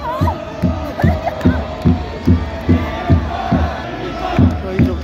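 A stadium crowd of Japan supporters at a World Cup qualifier against Bahrain claps and chants in a steady, rhythmic beat, roughly two pulses per second, over a continuous roar of cheering voices.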